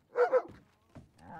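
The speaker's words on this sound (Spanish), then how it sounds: "Escucho un perro." A dog in a roleplay video game gives two quick barks close by, followed by a softer yip and a brief whimper-like tone.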